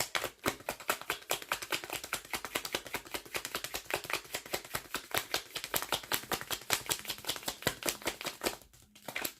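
Tarot cards being shuffled quickly by hand during a Taurus reading, a dense run of crisp, rapid riffling clicks close up that carries on steadily for the whole stretch with no talking, then ends in a brief pause.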